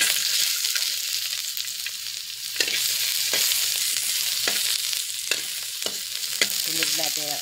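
Onion frying in hot oil in a pan: a steady, close sizzle with sharper crackles and pops scattered through it, carrying on evenly with no talking.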